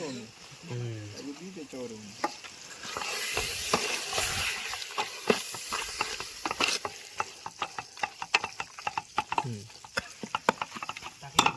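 Chicken kaul fry cooking outdoors at a farm at night, with a sizzle and a dense run of sharp clicking stirring strokes that grow quicker and louder. A voice is heard briefly near the start.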